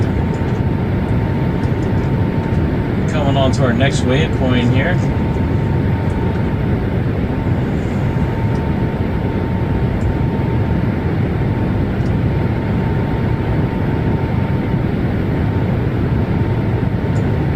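Boeing 737 MAX cruising in Microsoft Flight Simulator gives a steady, loud broadband engine and airflow roar with a faint constant tone. A voice is briefly heard over the drone partway through.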